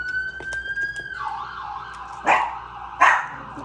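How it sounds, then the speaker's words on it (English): A pet dog in a home barks twice, short sharp yaps following a fading wailing siren outside. "He barks at everything he hears."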